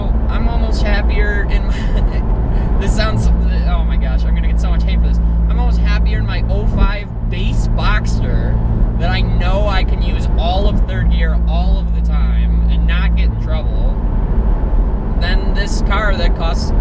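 A 2021 Porsche 718 Cayman GT4 engine drones loud and steady, its note rising and holding in stretches, with someone talking over it throughout.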